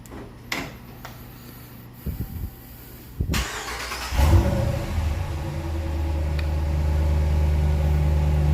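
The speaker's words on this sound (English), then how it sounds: "being a factory exhaust." A Competition Series car with a factory exhaust: a few clicks and door-like thuds, then the engine fires and settles into a steady, loud, deep idle that holds to the end.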